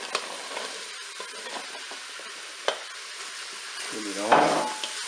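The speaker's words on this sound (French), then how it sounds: "maintenant je vais ajouter les carottes" Carrots go into a hot Cookeo pressure cooker pot with browned meat for a bolognese, a close, steady sizzle with a few sharp clacks of a utensil stirring, then a brief brighter hiss near the end.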